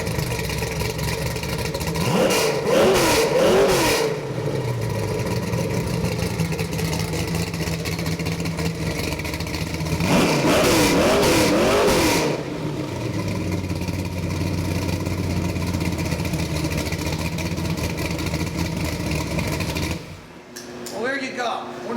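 A 1967 El Camino with a 327 crate engine rumbles at a loud, close idle, broken by two strong rev blips around three seconds and eleven seconds before dropping back to a steady grumble, then cutting off near the end.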